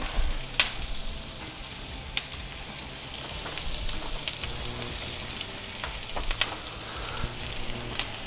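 Meat steaks sear in a hot pan with a steady, loud sizzle throughout, broken by a few sharp pops and spatters.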